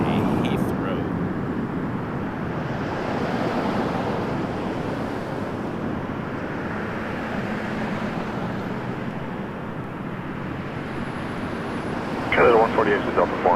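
An Air Canada Boeing 777-300ER arriving at Toronto Pearson, a broad continuous roar of jet engines mixed with wind noise, steady and fairly loud, with a brief clatter near the end.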